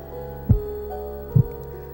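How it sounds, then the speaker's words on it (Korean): A golden bat's heart, once slow in hibernation and speeding up as it wakes, gives two deep, muffled thumps about a second apart over a low steady hum. "깨어나면서 박동수는 450회까지 증가한다"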